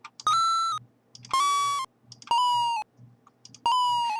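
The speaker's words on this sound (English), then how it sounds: "Oh, okay, so it's mutating the pickup coin." Four short electronic video-game blips, mutated variations of a coin pickup sound effect, each a bright chiming tone, spaced roughly a second apart with faint soft noise between them.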